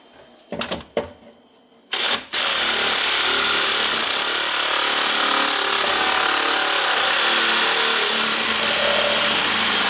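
Power saw cutting through a kitchen sink drain pipe, starting abruptly after a few quiet knocks and handling sounds, then a loud, continuous whining cut that runs steadily to the end.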